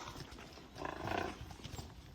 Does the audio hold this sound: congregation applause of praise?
no